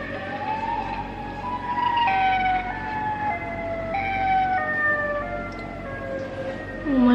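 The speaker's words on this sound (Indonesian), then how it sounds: "Iya benar suaranya kayak sirine." Several overlapping sirens wail in long rising and falling tones, layered and eerie, sounding at a distance over a low background rumble.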